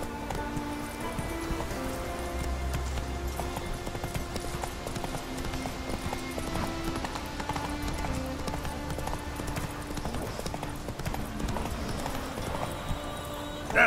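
Geralt's horse Roach gallops in The Witcher 3, with continuous rhythmic hoofbeats at a fast, even pace. The hooves are mixed with game ambience and a faint music bed, at moderate level and without speech.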